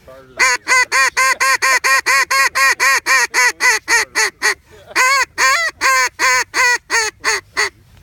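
A duck call blows an emphatic long call, a loud, close series of about twenty-five rapid, nasal quacks in steady rhythm with a brief pause midway.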